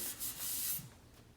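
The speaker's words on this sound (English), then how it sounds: "sand a few of the seams" Quiet rubbing and sanding strokes on the seams of a sheet metal toolbox, a few short back-and-forth passes, close and faint with no talking.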